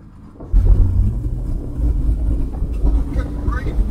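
A Ford Cortina 6 with a 4.1-litre engine, driven in 40-plus-degree heat, accelerates with a deep engine rumble that surges in loudly after half a second and holds a heavy, steady drone.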